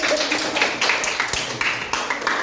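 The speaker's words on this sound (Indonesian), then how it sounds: "Kembali tepuk tangan." Students clap in a classroom during a physics lesson, a steady run of crisp, close hand claps lasting the whole stretch at a fairly even level.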